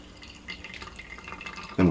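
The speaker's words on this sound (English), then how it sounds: "So the first thing is obviously to wash through the filter," Water trickles and drips through a Hario V60 paper coffee filter as it is rinsed, a light, steady patter close by, ending in a louder splash.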